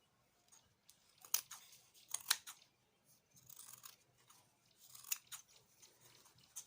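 Scissors cutting fabric for a twisted headband: crisp close snips in short bursts, several blades closing in quick succession with brief pauses between, quiet and alone.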